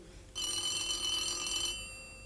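A telephone rings in a domestic scene from an Egyptian TV drama, one loud, sustained electronic bell tone that starts abruptly and runs about a second and a half before fading out, alone without speech.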